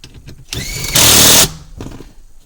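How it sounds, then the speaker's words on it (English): Power tool such as an impact driver or drill removing a 10 mm bolt on a 2006-2011 Toyota, fitted for a remote start ground ring: a single loud half-second burst of whirring under quieter clatter before and after. "we're going to remove the 10 millimeter bolt and apply our ground ring"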